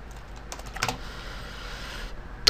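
A computer keyboard typed on in short bursts of key clicks, then a lull and a final sharp keystroke, fairly close with no talking.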